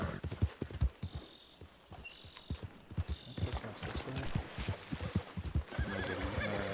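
Hooves clop steadily on hard ground while a horse whinnies in Red Dead Redemption 2 on PS4, with brief speech and game sounds mixed in.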